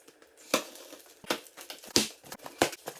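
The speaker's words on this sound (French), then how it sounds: "On va commencer déjà par le déballer." A Ruroc RG1-DX Titan helmet is unboxed: several short, sharp bursts of crinkling and tearing packaging sound close by against quiet.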